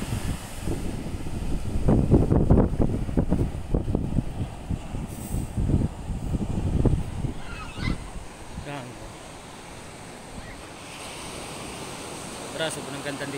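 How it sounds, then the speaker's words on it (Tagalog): Strong wind at Maraetai Beach in New Zealand, loud buffeting gusts roaring against the microphone over distant surf for the first half, then easing to a quieter background whoosh. "lakas ang hangin"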